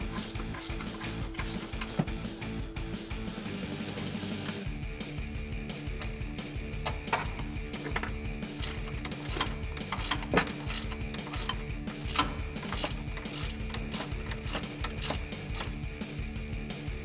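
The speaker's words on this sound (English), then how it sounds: "we're gonna grab a 15mm ratcheting wrench and tighten up the nuts on top of your strut" A 15mm ratcheting wrench tightens the strut nuts during a Rough Country 2-inch leveling kit install on a 2005-2021 Toyota Tacoma, giving a rapid continuous clicking ratchet with periodic louder snaps, close and alone.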